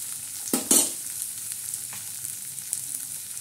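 Onion and tomato stirred in a hot tempering while frying, with two loud scraping stirs near the start over a steady quiet sizzle, then faint occasional clicks.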